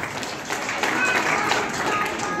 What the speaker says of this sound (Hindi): जोरदार तालियां बजाएं अपने लिए।